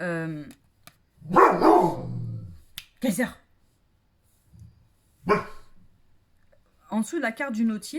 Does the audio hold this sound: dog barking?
yes